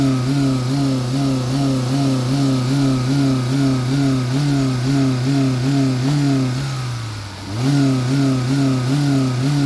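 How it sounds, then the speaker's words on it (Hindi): Car engine with the camshaft position sensor coupler unplugged, held at steady raised revs with a rhythmic pulsing drone; the revs sag briefly near the end, then recover. Close and loud, with no talk. "अभी मैं गाड़ी को एक्सेलरेट करूँगा, अब जब मैं बिना कपलर के गाड़ी को एक्सेलरेट कर रहा हूँ तो गाड़ी बिल्कुल नहीं उठ रही है"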